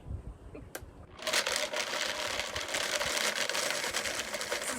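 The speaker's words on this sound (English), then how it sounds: "I'm just going to scrape it down and blend it up just for a few seconds longer." A blender whirs through vegan kale Caesar dressing with almonds: after a soft clatter, a loud, gritty motor roar kicks in and runs steadily to the end, close up and alone.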